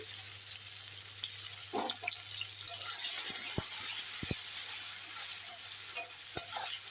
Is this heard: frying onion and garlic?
yes